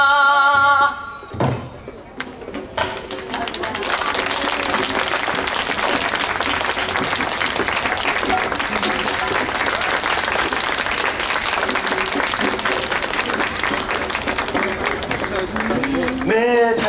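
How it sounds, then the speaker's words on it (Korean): An audience applauds after a pansori performance of Simcheongga, a dense and sustained burst of clapping that swells after a few seconds and holds steady, with a voice speaking over it at the start. "큰 박수 부탁드립니다"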